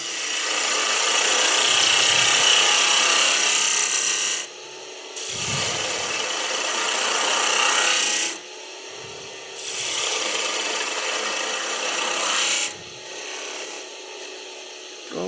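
A gouge or rasp works a wooden Christmas tree on a lathe, giving four long harsh scraping strokes separated by short pauses, close and loud.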